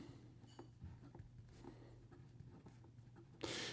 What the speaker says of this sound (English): here we go with the writing sample for the Platinum.